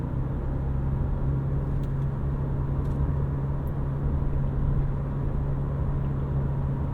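A 2022 Subaru Crosstrek Sport rolls along a bumpy road, giving a steady, loud low rumble of road and engine noise heard from inside the cabin, with faint knocks over the bumps and no one talking.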